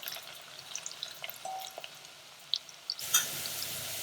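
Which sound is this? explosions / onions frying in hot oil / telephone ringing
onions frying in hot oil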